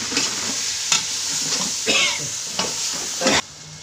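Tomatoes go into fried masala in a pan for rice with chickpeas, with a steady close sizzle and several sharp scraping stirs of a spoon.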